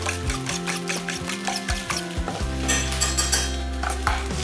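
Tomatoes sizzling and frying in a pan, a steady close crackle with a stirring utensil scraping against the pan now and then, and no talking.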